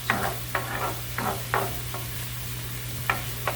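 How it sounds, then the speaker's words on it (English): Onion cooking in a pan for a creamy Tuscan chicken dish, with a steady low sizzle and a few sharp scraping stirs spread across the clip, near and moderately loud with no talk. "So it's cooking pretty quickly. I just want that onion to be a little bit soft."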